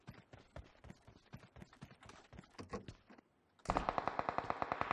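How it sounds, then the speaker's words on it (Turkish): Gunfire in a PUBG Mobile firefight: rapid irregular gunshot cracks for about three seconds, a brief lull, then a loud steady burst of automatic fire. "Bir çatışma çıktı."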